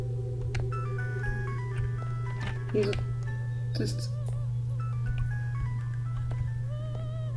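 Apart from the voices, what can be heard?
broken telephone ringing in the video game Araya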